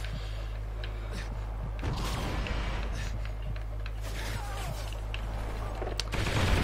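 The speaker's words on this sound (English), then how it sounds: "This has got the rapid fire on it, on the Vector." Rapid-fire Vector submachine gun bursts in Call of Duty: Ghosts, a steady chatter of gunfire with scattered shots and mechanical clicks over game background noise, getting a bit louder toward the end.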